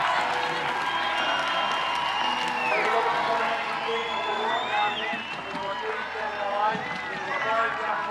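Stadium crowd at a Dublin rugby sevens tournament roaring for the home team, a broad, sustained wash of cheers and whistles with distant chanting, continuous and fairly loud with voices swelling through it.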